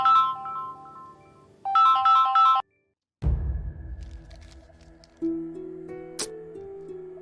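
A phone rings during a call in a Malayalam TV serial scene, a loud melodic ringtone in two bursts, then a break and a low thud, followed by a steadier tone.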